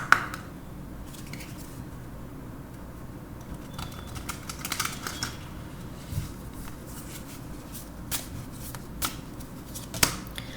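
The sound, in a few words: shuffling tarot cards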